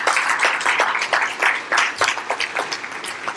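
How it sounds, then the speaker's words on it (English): An audience applauds at a technology summit in Grand Bahama: dense, steady clapping from many hands, moderately near, with no speech over it. "You also clap on that one, this Grand Bahama,"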